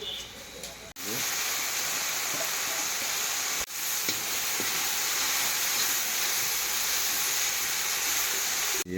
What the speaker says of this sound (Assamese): বৰ্তমান মাছটো ফ্ৰাই কৰি ল'লোঁ